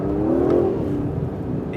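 An Aston Martin DB11 from the brand's new turbocharged era revs under throttle while driving hard near the limit of grip. The engine note rises and falls in a steady surge up close, with no talking.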